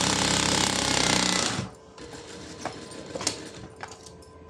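A sewing machine stitches a back stitch in one loud, rapid, continuous mechanical run for under two seconds, then stops and leaves faint handling clicks.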